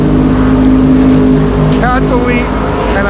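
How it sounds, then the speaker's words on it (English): Loud, raspy exhaust drone from a car with a catalytic converter delete and a glass pack muffler, steady engine rumble throughout with a brief rising rev, voices talking over it. "I replaced the muffler with a glass pack. Okay, and it sounded incredible."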